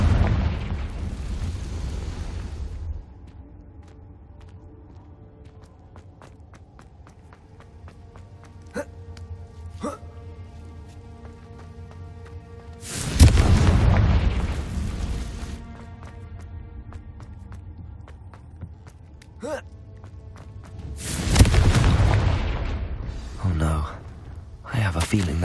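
Confringo spell explosions in the video game Hogwarts Legacy, two loud bursting blasts about eight seconds apart, each with a roaring decay, set against a quiet hum with faint chimes and clicks between them.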